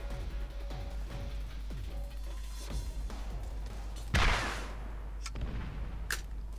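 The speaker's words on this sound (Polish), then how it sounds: "Dobra, nawalamy z bazuki." Several thumping weapon shots from Borderlands bazooka fire go off in rhythm over a steady low hum, then a sharper louder blast with a crashing burst and a couple of crisp cracks follow.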